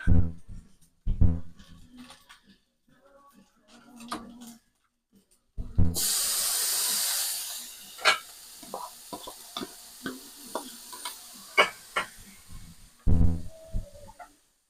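Onion hitting a hot pan with a sudden loud hiss and sizzle, followed by repeated scraping strokes of a spoon as it is stirred.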